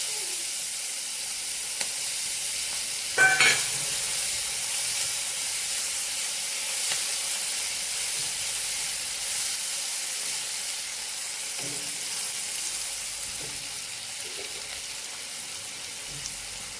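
Two dried chillies and chopped onion hiss steadily in hot oil for a fish curry, a constant close sizzle with a sharp clatter early on and a few soft knocks later, with no talking.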